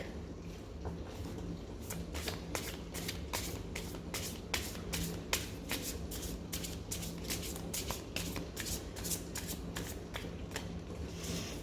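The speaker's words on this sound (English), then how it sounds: "So, shuffling the cards once more and then cleaning the deck." Rapid, crisp riffling of a deck of cards being shuffled repeatedly, quiet and close, in a fast rhythmic series of flicking bursts.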